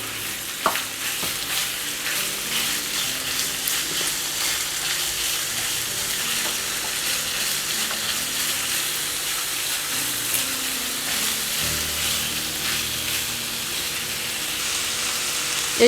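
Minced meat and chopped onion fry steadily in a hot pan, giving a continuous close sizzle with occasional stirring scrapes and no talk throughout.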